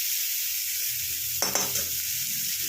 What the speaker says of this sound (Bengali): এটাকে ভালো করে লাল করে ভেজে নেব।